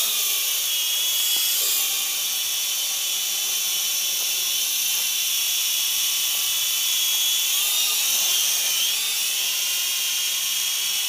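An XK X300 FPV quadcopter drone in flight gives a continuous high-pitched buzzing whine of small propellers, steady and fairly close, with slight pitch wavering as it drifts, and no talk over it.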